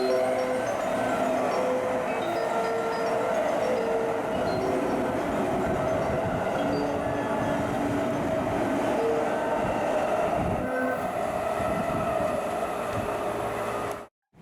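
A local train sits stopped at Higashi-Kishiwada station in Japan, a steady mechanical hum and whine of the idling railcar with faint clicks and shifting rumble throughout, ending abruptly; no voices.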